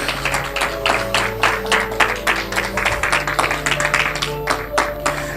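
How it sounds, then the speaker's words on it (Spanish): A church congregation claps loudly and continuously in rhythm, dense and close, over sustained music with organ-like tones and possible voices mixed underneath. "Dale un fuerte aplauso al Señor en esa noche"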